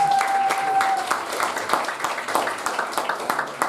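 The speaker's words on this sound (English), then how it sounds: "Big round of applause for that show, please" Audience applause after a performance, steady clapping from a crowd filling the whole stretch, fairly loud and even with scattered sharper claps.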